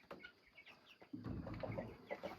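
Chickens, chicks and a rooster on a farm being renovated, with soft clucks and chick peeps at first, then a denser run of louder clucking from several birds close by.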